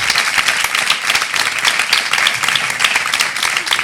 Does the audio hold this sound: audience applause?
yes